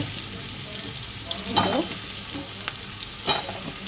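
Potato, papaya and other vegetables stir-fried in a pan for chicken soup, a steady sizzle with two sharp scraping stirs of the spoon partway through, and no talking.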